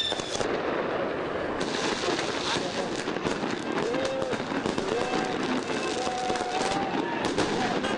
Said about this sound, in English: We're watching the fireworks